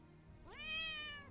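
A cat meow plays as an alert sound from a World of Warcraft WeakAuras setup, one clear rising meow that swells and then holds, short and alone.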